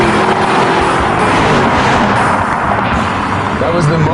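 Mercedes-Benz S-Class and BMW 7 Series luxury sedans racing at about 100 mph, heard as a loud, steady, full-band roar of engine and wind that never lets up, with a voice partly buried underneath.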